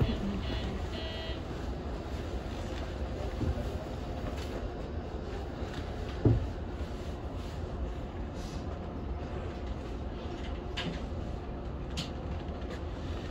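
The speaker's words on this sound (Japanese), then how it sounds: "Emergency brakes have been applied." A Japanese train brakes hard in an emergency stop, a sustained rumbling rail and wheel noise throughout with a sharp clunk midway and faint background sounds.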